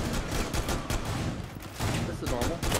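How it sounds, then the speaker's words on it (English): Rapid bursts of gunfire from a Rainbow Six Siege match fill the moment, dense and continuous, with voices talking over the shooting. "He started shooting at me."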